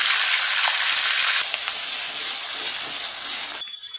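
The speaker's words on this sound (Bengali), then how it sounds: "এই মশলাটা ভালোভাবে আগে ভেজে নেব" Onion and cumin paste with ginger-garlic paste hitting hot oil, a loud, dense, continuous sizzling hiss up close that cuts off abruptly near the end, leaving a thinner high hiss.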